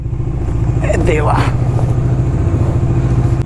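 Dominar 250 motorcycle on a road trip, its engine running steadily with a low, even throb; loud and close, with someone briefly speaking over it.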